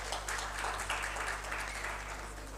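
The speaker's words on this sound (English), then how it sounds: "A huge round of applause for Ambassador Dr." Applause at a formal high-level dialogue honours an ambassador, with an audience clapping in a sustained, moderately distant patter that stays fairly quiet and even, and no speech over it.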